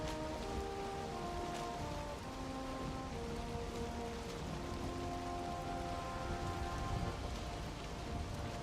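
Rain pours down in the Valheim video game, a steady close hiss of drops on surfaces under layered tonal game music, with no talking.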